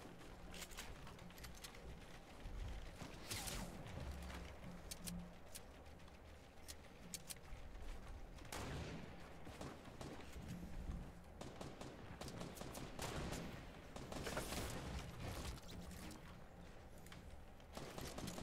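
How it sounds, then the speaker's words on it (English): Gunfire in the Fortnite battle royale video game: bursts of shots and rapid automatic fire crackle on and off throughout, fairly busy and continuous, with no talking. "Two teams are shooting at us right now."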